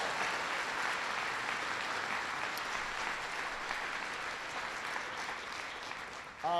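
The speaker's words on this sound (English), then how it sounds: "I want to give them a big round of applause" Audience applause at a briefing with President Obama, a steady dense wash of clapping that holds for several seconds and fades slightly toward the end, with a brief voice cutting in at the close.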